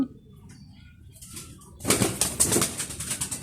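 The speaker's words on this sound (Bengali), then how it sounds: "এখন কিছু কবুতর আমার এই সাইডে চলে আসছে।" Pigeons arriving nearby, with a burst of flapping wings and soft cooing that starts suddenly after a quiet stretch and continues in close, irregular flurries.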